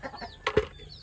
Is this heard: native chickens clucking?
yes